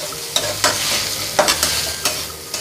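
Sweet potato halwa cooks in a pan, stirred with a spoon that scrapes in several distinct strokes over a soft frying hiss, close and moderately loud, with no voices.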